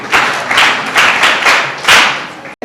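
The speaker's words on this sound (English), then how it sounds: "Okay, clap for me." Secondary school students in a classroom clapping, a few uneven bursts of close, loud hand claps in quick rhythm, ending with a sharp knock.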